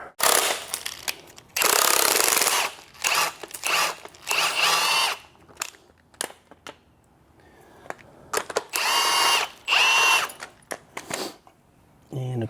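A tool spins an 18 millimeter socket on a BMW X5 E70 during a spring installation, giving loud whirring bursts of several seconds broken by short pauses and clicks, close to the microphone.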